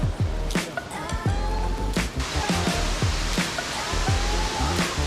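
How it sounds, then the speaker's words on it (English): St. Nectan's waterfall in a Cornish glen roars as a constant, loud rush of falling water, with a few sharp knocks and clicks nearby. "St. Nectan's waterfall."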